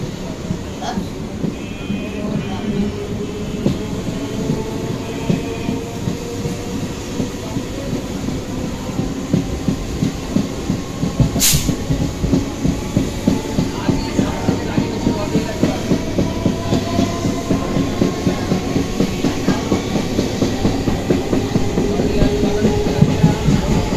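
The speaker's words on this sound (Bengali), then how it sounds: "এক্ষুনি ট্রেন ছাড়বে" A local train on the Bangaon–Ranaghat line pulls away and runs, a steady heavy rumble with rhythmic clickety-clack that grows denser as it picks up speed, plus a brief high squeal midway.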